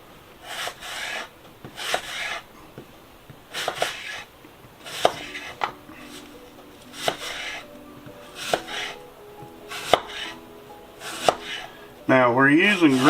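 A knife chops Granny Smith apples into small chunks on a cutting board, sharp irregular thuds and knocks in short clusters with quiet gaps, ending in a brief squeaky scrape.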